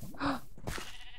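Sheep in a video game bleating once, a short wavering call, fairly close, followed by faint rustling.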